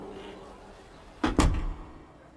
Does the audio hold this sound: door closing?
yes